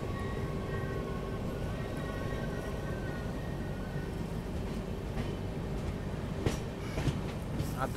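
A meter gauge train on the Bilimora–Waghai route rumbles past with a continuous rolling clatter and faint wheel squeal, joined by a few sharp clanks toward the end.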